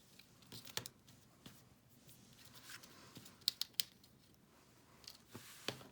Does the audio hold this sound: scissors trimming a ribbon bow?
yes